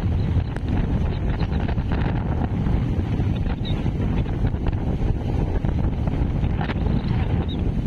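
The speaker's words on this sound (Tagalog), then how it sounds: "Grabe kalakas ng hangin." Strong typhoon wind roars continuously at Dinahican, Infanta, Quezon, buffeting the microphone in a dense, unbroken rush with no pauses.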